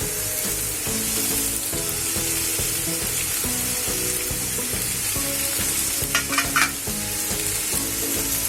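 Softened onion and capsicum frying in a pan on low gas, a continuous sizzle with rhythmic stirring and scraping strokes and a few brief clinks near the end.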